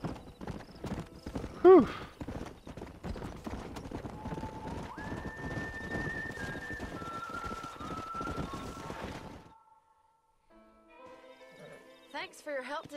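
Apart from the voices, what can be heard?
horse hooves and whinny in a video game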